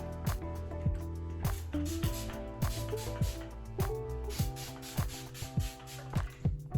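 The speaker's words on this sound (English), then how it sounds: "This is essentially a leave-in conditioner in spray form" Quick repeated sprays hiss from a leave-in conditioner pump bottle, each short burst close by, coming in an uneven rhythm over a low background hum.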